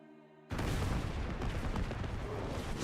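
Mortars firing in Diablo IV, a sudden loud burst of booming, rumbling explosions that continues densely for a few seconds.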